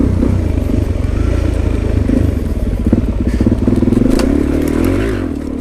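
A Suzuki DRZ supermoto motorcycle engine running close and loud in an urban setting, a steady throbbing idle with rhythmic pulses and a slight rise in revs near the end.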